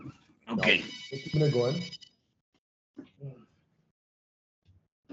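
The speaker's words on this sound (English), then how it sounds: "Oh, sorry, that's the phone." A telephone rings in a room with a bright electronic tone lasting a couple of seconds, overlapping a man's speech, followed by further brief talking.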